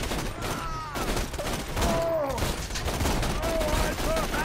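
Rapid bursts of gunfire ring out during a Borderlands 2 firefight, dense and continuous under a player's excited talk.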